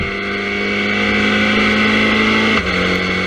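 A historic Formula Ford 2000 race car at Silverstone, its engine droning loud and steady as it accelerates past, then dropping in pitch abruptly near the end.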